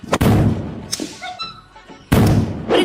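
Diwali firecrackers burst outdoors in a few sharp, loud bangs, with a quieter crackling stretch between the blasts.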